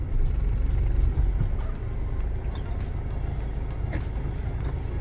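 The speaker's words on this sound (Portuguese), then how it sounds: "vou ligar o 4x4 em movimento agora" A 2007 Toyota Hilux 2.5 rolls along with a steady low engine and drivetrain rumble as four-wheel drive is engaged on the move, with a faint thump near the start and no talking.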